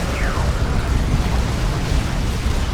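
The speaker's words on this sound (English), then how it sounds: "Bloodletter's now getting roasted by the Executioner Cannon." Executioner Cannon fire in the Warhammer 40k video game, a loud, dense, continuous roar of blasts and battle din with no clear separate shots.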